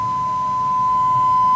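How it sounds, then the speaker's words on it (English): A steady pure sine test tone from audio distortion measurement equipment, a single unwavering loud beep held throughout with a faint hum beneath. "Bring her back down to a pure sine wave"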